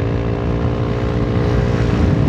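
Honda Forza 350 scooter running on E85 fuel, its engine droning steadily and close as it accelerates, a continuous buzzing note with no talking.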